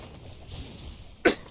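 A single sharp cough bursts out near the end, close and loud against a quiet background hum.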